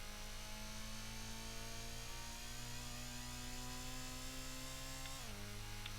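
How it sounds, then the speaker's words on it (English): In Gran Turismo on the PlayStation, a game car's engine holds a steady, buzzing high-rev drone at full throttle against the rev limiter, with a brief dip and shift in pitch near the end. "Oh, rev limiter as well."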